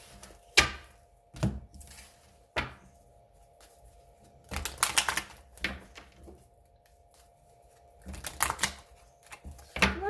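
Tarot cards shuffled and slid aside on a table in a few bursts of close rustling and tapping, separated by quiet pauses over a faint steady hum.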